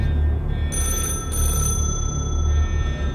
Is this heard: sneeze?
no